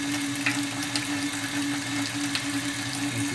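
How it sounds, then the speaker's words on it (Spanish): Water runs steadily from a kitchen tap into an aluminium sink, a continuous rushing hiss with a faint steady hum underneath, moderately close and without speech. "Voy a abrir la canilla"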